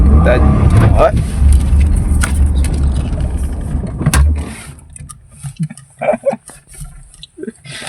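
A car driven by a learner rumbles loudly with its engine running for about four seconds, then cuts off abruptly; afterward it is near-silent apart from scattered voices and small sounds.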